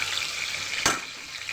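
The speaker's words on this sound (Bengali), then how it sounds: "এখানে আমি তেল পটকাকে দিয়ে দিলাম" Tel pakta frying in hot mustard oil in a wok gives a steady close sizzling hiss broken by one sharp spatter midway.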